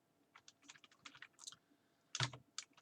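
A computer keyboard clatters with light, irregular keystrokes as a long Linux terminal command is typed, followed by a louder thump like the Enter key and a couple more taps.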